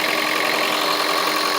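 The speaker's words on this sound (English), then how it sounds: "there it is, the engine is on" A 2007 Toyota Prius engine idling with a steady, even hum and faint tonal drone, close by and unbroken, with no voices over it.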